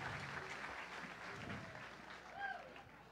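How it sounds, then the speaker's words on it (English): Applause for a musical group at a tribute show to American Bandstand, a steady, moderately loud wash of clapping across the whole stretch, with voices and a few whistles mixed in. "a big hand of applause for this group over here"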